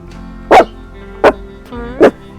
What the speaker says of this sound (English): you don't bark at another corgi